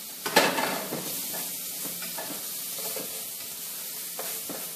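Onions sweating in a pan over low heat give a steady, quiet sizzle and hiss, with a few soft scrapes from stirring near the start.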